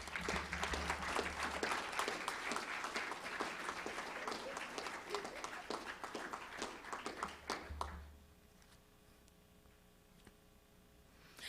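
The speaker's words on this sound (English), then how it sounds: "give a warm round of applause, a Delaware round of applause to Imani" An audience gives a warm round of applause at a Delaware workforce event, dense clapping filling the room for about eight seconds before cutting off to near silence.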